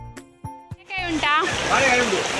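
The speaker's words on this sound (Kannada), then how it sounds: "ಆದರೆ ಇಲ್ಲಿ ನೋಡಿ ಎಷ್ಟು ನೀರು ಬರ್ತಾ ಇದೆ ಅಂತ." Rainwater flows and splashes near a market, entering midway as a loud rushing gush after a few sharp knocks, while someone talks over it.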